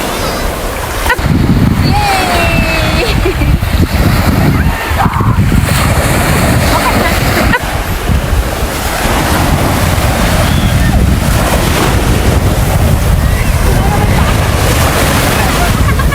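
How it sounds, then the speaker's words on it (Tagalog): Heavy ocean waves surge and crash close by at Naujan Beach, Mindoro, amid gusty wind buffeting the microphone, with people talking intermittently over the roar of the water. "Malakas ang alon."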